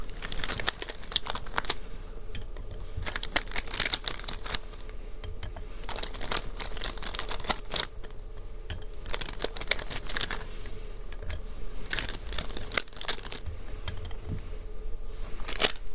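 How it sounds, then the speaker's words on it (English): Steady clicking and rattling of wooden colouring pencils being handled and arranged close by, with light taps and clatters throughout. "Let me get my colouring pencils out all nice and neatly arranged again."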